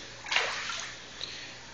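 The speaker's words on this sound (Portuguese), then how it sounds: "Levantei-me com a torneira da casa aberta, com a casa alagada." Water splashes from an open household tap left running in a flooded house, a brief burst of rushing spray near the start that settles into a faint, steady trickle with no talk.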